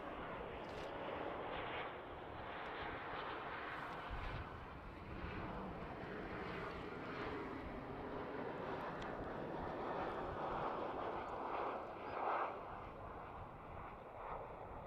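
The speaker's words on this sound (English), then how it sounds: "I can already hear the engine sounds" A KLM Cityhopper Embraer E190 jet coming in to land on a foggy winter day at Schiphol, its engines giving a low, steady, distant roar with broadband rumble and some wind buffeting the microphone.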